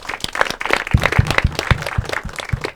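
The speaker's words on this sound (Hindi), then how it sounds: "एक बार जोरदार तालियां इनके लिए।" A studio audience at a comedy debate show applauds, with many hands clapping and a few strong, distinct claps standing out in an uneven rhythm, close and lively.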